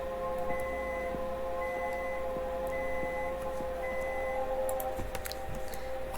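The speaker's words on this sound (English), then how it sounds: "that's just the microwave going on going off in the background." A microwave beeps faintly in the background, a few evenly spaced electronic tones repeating over a quiet room hum with occasional soft clicks.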